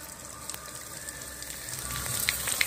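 Pitha made from leftover rice crackles faintly as it deep-fries in hot oil, a soft sizzling bed with scattered small pops that grow a little busier toward the end, with no talk.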